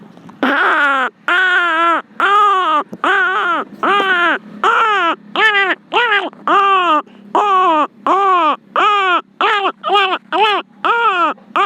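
A man imitates the cries of a young crow with his voice, a long run of about eighteen loud, harsh, rising-and-falling caws in close, steady succession, each one strained and nasal.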